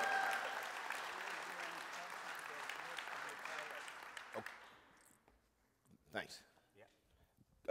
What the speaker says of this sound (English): you can give the Lord a big hand clap for that